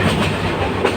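Train wheels running on rails heard from inside a moving passenger carriage, a steady loud rumble with faint clickety-clack throughout.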